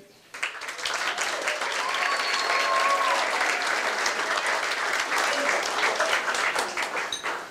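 Sustained applause from a crowd, steady and full for several seconds, with a faint voice or whistle riding over the clapping.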